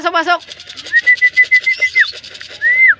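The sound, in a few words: racing pigeons at a show bird club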